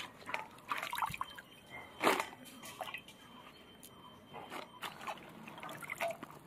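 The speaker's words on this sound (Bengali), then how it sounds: "পাত্রে জল নিয়ে নিয়েছি, 2 বার করে ধুয়ে নিতে হবে ভালো করে।" Dried red chillies being washed by hand in a bowl of water, with soft splashing, dripping and sloshing in scattered bursts close by and one louder splash near the middle.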